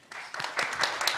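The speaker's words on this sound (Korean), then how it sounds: "박수를 맞아주십시오." Audience applause at a Jeju forum session on space industry policy welcoming the next president of the science federation to the stage; clapping builds quickly and stays steady through a short burst, fairly near.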